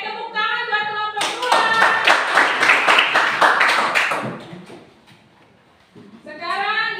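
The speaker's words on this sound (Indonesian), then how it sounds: "tepuk tangan buat kelompok" A classroom of students claps for a group that has just presented its discussion results, a dense burst of clapping lasting about three seconds, with a teacher talking before and after it.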